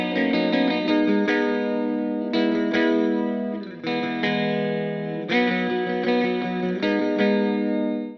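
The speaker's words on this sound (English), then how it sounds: "So you can hear I have one guitar panned hard left and right, and they're playing off of each other." Clean electric guitars run through a Focusrite Hitmaker amp plugin, two parts panned apart trading chorused, shimmering chords and picked phrases in loud, reverberant bursts with short pauses and no talking.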